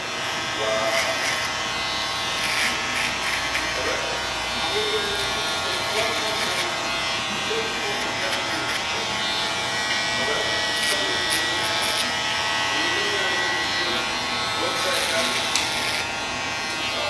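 A steady electric shaver buzz runs close and continuous throughout as a barber shapes the bottom line of a fade haircut, with faint voices murmuring underneath.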